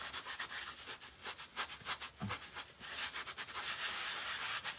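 Hands rub a homemade craft mixture into fabric for primitive pilgrim figures, making a dry, scratchy rubbing of repeated close strokes that grows denser toward the end, with no talking.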